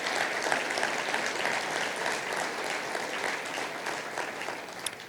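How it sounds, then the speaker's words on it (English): An audience at a city's State of the Address claps steadily for a brass quartet from a symphony orchestra, a dense, even wash of applause holding for the whole stretch without speech. "Let's give them a round of applause."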